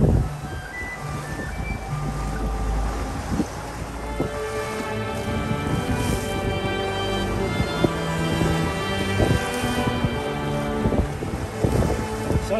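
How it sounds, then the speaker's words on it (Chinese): A boat's engine hums steadily at sea during a dangerous, stormy crossing, a low droning tone heard under heavy rain and rough weather noise. "包括我们发动机的声音"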